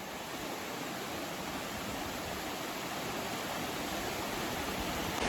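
Kothapalli waterfall pours in a steady, loud, unbroken roar of rushing water that fills the whole scene with no other sounds.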